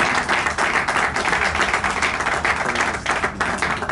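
Audience at the XI Premios Escriduende 2024 award ceremony in the Casino de la Gran Vía, Madrid, gives a dense, steady round of close applause that runs continuously without any talk.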